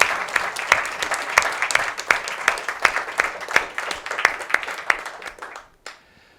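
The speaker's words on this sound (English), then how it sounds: "So I'd like to give him a round of applause" A conference panel audience applauds with a steady roomful of hand claps, the individual claps distinct and rhythmic over about six seconds before stopping abruptly, leaving near silence.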